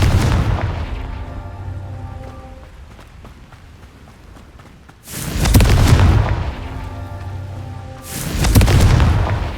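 A Confringo blast spell in the Hogwarts Legacy video game goes off as two loud, close booming explosions a few seconds apart, each a broad roaring burst that swells and fades, over a quieter rumbling game background.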